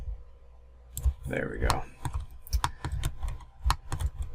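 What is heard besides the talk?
computer keyboard key presses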